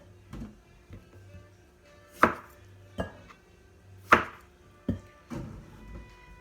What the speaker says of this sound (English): I'm just gonna cut all of the potatoes in half and throw them into the little baking dish really quick